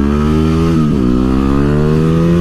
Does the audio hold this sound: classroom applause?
no